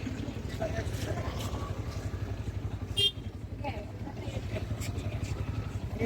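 Heavy road traffic heard from a motorcycle ride through Yercaud, a steady engine drone with passing vehicles rumbling nearby and a brief louder swell around the middle.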